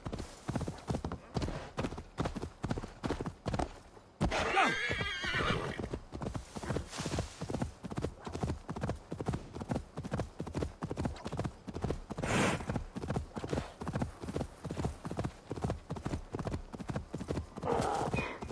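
A horse gallops steadily with rapid, continuous hoofbeats in Assassin's Creed Valhalla, with a loud neigh partway through and another whinny later, close and prominent over faint game ambience.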